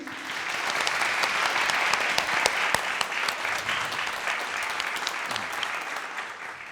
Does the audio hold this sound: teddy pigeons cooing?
no